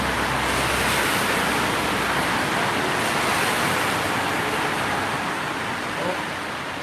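Continuous roar of road traffic as cars drive past nearby, heard from beneath a bridge, a broad steady rush that eases slightly toward the end.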